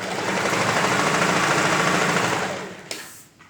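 A sewing machine runs steadily while stitching a lined blouse with princess darts, a loud continuous whir that holds for nearly three seconds before stopping, followed by a brief click and quiet.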